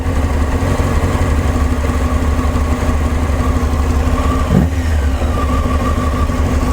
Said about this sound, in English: So I'll just check my idle is in the right range. It's about 1300 RPM.